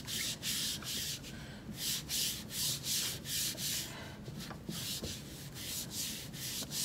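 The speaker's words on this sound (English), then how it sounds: "now I'm going to use the scrubber pad" Scrubber pad scraping and smoothing a plaster hump mold for drape-molding clay slabs: close, steady rhythmic rubbing strokes, roughly two per second, gritty and continuous with no talk.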